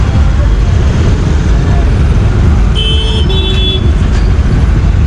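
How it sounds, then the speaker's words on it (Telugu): Road traffic heard from a moving vehicle, a loud constant rushing roar with brief high horn toots partway through. "ట్రాఫిక్ ఉంది."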